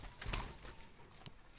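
Spotted doves kept in backyard cages give a brief, faint flutter of wings and soft movement with a couple of quick rustles, no voices heard.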